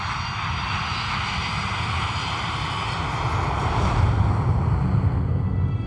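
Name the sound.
Tupolev 154 airliner engines in flight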